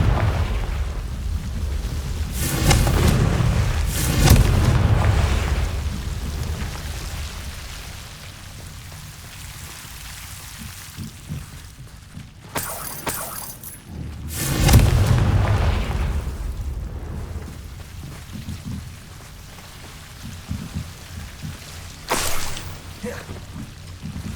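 A Confringo explosive spell from Hogwarts Legacy goes off in loud, booming blasts, one near the start and another mid-way, each rumbling and crackling before fading back into a low ambient hiss.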